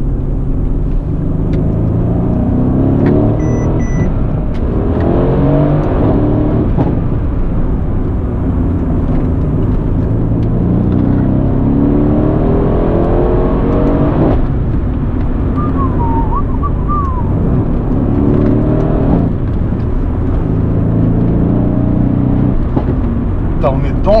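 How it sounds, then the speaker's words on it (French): A Mercedes C63 S AMG accelerates on a drive, a steady loud engine rumble heard from inside the car, with people talking over it. "je suis allé faire un tour avec ma C63S"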